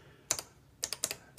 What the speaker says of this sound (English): it's typing that line in this LCD display